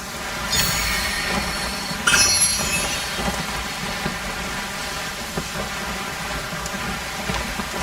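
Steady rain in the video game Genshin Impact makes a constant broad hiss that runs through the whole stretch, with a few brighter crackles layered over it.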